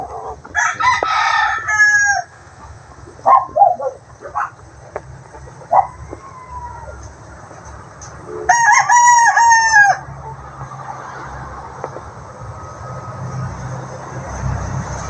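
Gamefowl roosters of the Bulik straight comb type crow loudly and close in several separate bursts, with clucks between them, over faint background noise and no talking.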